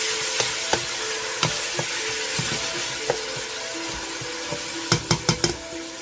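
Three medium tomatoes sizzling in a pot as Filipino ginisang munggo (mung bean stew) cooks, a steady close sizzle punctuated by scattered spoon scrapes and a quick run of four sharp taps near the end.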